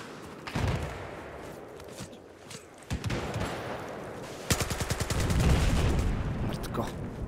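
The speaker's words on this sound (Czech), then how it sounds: "miluju, když zbraně střílí tam, kam mířím" Gunfire rattles in the video game Battlefield 4, with bursts of automatic fire that grow into a dense, loud stretch of rapid shots near the end.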